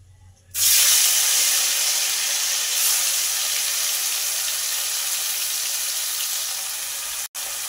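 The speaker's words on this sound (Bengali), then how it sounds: "এবার এই তেলের মধ্যে মাছ দিয়ে দেব" Small river fish (mourala) are dropped into hot oil in a pan, and a loud, sudden sizzle erupts and settles into a steady crackling hiss of frying that carries on close up with no talking.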